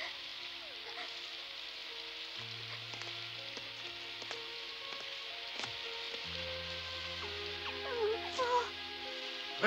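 A soft, steady hiss of rain falls throughout, faint and even, with low humming tones and occasional small clicks underneath.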